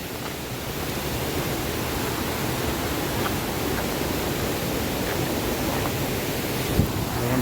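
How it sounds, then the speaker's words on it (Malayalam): Strong flowing water rushes steadily at Thommankuthu waterfall in Idukki, a dense, even roar that stays loud and unbroken throughout with no voices. "നല്ല ഒഴുക്കാണ് ഇവിടെ."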